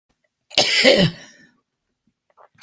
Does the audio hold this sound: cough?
yes